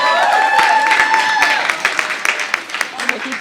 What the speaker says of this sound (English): Let's give a huge round of applause to the Be in the Know Youth Coalition